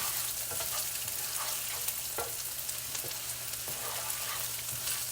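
Raw rice browns in oil in a frying pan for Mexican rice, giving a steady, dense sizzle that holds level throughout. Faint stirring scrapes sound now and then, with no voices.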